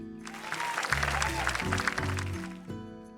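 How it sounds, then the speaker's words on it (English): Crowd applause in the video game My Time at Sandrock, a steady wash of clapping lasting about three seconds under low tonal game music, ending with a fresh musical chord. "let's give a special round of applause for our core construction team"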